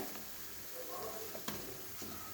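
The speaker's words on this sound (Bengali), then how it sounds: "মুচমুচো মুচমুচো পেঁয়াজি হালকা আঁচে ভাজতে হবে" Onion pakoras (peyaji) frying in oil over low heat, a steady soft sizzle with faint crackles and a brief stir or scrape near the middle, heard close and alone.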